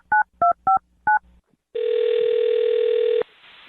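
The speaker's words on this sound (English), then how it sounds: "I'm going to dial his phone number right now" A telephone number is dialed: four short, crisp touch-tone beeps come in quick succession, then after a brief pause a long, steady ringback or dial tone follows. It is loud and close, with no voices.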